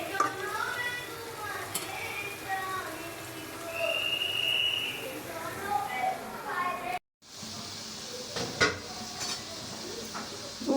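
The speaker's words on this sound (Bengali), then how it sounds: "শুটকিগুলো এখন ভেজে নিতেছি।" Shutki, dried fish, frying in a pan, with a steady sizzle and occasional clinks of a stirring utensil against the pan while someone talks over it; a brief cut interrupts near the end.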